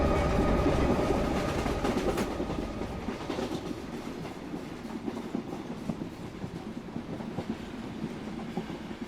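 A moving train rumbles steadily with rhythmic clickety-clack from the wheels over the rails. The sound is loud and continuous and fades slightly over time, with no talking.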